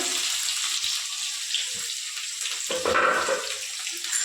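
Onions, cumin and curry leaves fry in hot oil in a home kitchen pan, a steady broad sizzling hiss running throughout with a brief clatter near the end, no voices.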